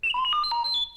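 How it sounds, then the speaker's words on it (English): R2-D2 droid from Star Wars emits a quick electronic chirp of rising and falling warbling beeps, a single short, clear signal lasting about one second. "You will know it is time to turn the page when you hear R2-D2 beep like this."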